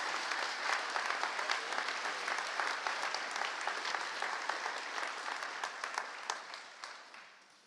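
Graduation audience applauding honored students at a high school ceremony, a steady, dense wash of many hands clapping across a large crowd, tapering slightly at the end.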